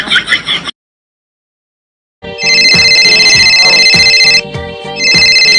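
A phone ringtone bursts in loud and close after a brief stretch of talk and a pause of silence, repeating its bright electronic melody and continuing steadily to the end.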